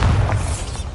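Bombarda, a blasting spell in the video game Hogwarts Legacy, lands as a loud, close, low boom that fills the whole second with heavy rumbling.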